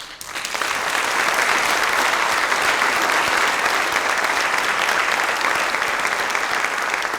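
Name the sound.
audience giving an ovation, applause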